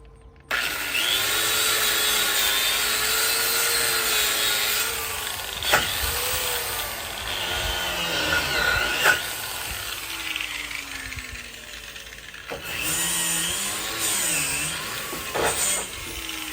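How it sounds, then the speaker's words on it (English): A wire wheel on a power tool grinds steady and loud across new steel, scrubbing off mill scale during a log truck bed build, with brief dips and surges as pressure shifts and a pause near the end before it resumes. "if you'll take a wire wheel and just kind of clean it up a little bit"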